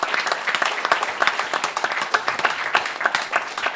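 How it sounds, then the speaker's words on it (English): Audience clapping at a Purim church gathering, brisk and fairly close, with many individual hand claps standing out over a dense, steady round of applause. "We need to clap it up for the Most High"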